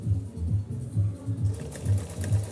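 A Pfaff Hobby Matic 808 sewing machine runs a zigzag stitch, its motor humming steadily with a rapid, even rhythm of needle strokes throughout, close and fairly loud with no talking.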